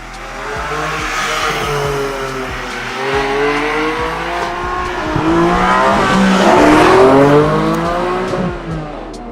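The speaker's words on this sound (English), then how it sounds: "sound of this flat six just bouncing off the hills, it is absolutely theatric." Porsche 718 Spyder with a naturally aspirated 4-litre flat six revving hard outdoors among hills, rising and falling engine tones repeating with gear changes, loud and continuous with tire squeal mixed in.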